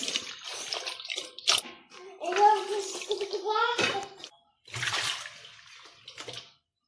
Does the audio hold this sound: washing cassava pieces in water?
yes